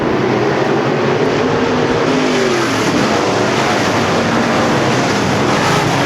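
Race cars roaring around the track at Ogilvie Raceway after a green-flag restart, a loud continuous engine drone with a pass swelling and fading midway, no talk.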